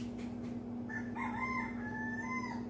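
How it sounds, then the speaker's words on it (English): A rooster crows a drawn-out cock-a-doodle-doo at a moderate distance, faint over a steady low electrical hum, with no talking. "I hope you enjoy the sound of the roosters, etc."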